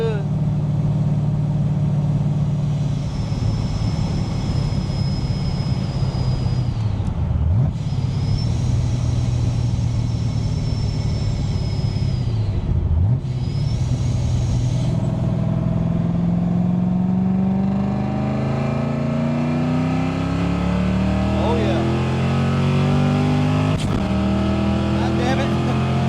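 A boosted stock Ford 302 V8 car accelerates hard through the gears, its engine roaring loud and close, turbo whine rising and dropping at each shift, as the tires spin on the final pull; a voice is faintly heard.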